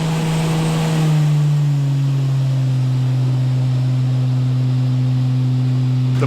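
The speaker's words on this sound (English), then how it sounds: "block out those awful Barra noises" A turbocharged Ford Barra engine on a dyno holds a loud, steady drone, rising slightly in pitch near the start and then sustaining an even, raspy hum without any talk.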